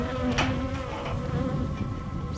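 Angry bees from a wild swarm kept in a hive, dense continuous buzzing close by and fairly loud, steady droning with individual insects darting past, no talking.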